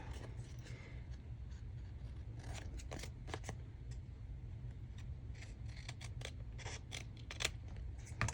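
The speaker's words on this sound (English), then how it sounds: "You just take something and draw around it and then cut it out manually." Scissors snip through paper while a shaker tag is cut out by hand, a quiet run of short crisp cuts in irregular bursts over a low steady hum, with no talking.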